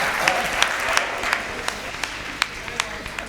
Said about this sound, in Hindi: आप सबने तालियां भी बहुत मन से बजाई